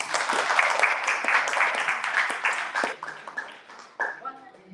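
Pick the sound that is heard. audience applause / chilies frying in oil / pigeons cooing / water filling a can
audience applause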